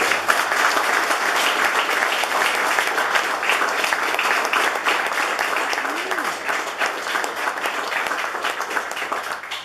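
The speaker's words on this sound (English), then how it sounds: "Let's give him a round of applause" Sustained applause from an audience at an Army Order of the Bayonet medal presentation, steady and dense throughout with faint voices mixed in.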